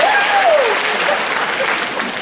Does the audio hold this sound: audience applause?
yes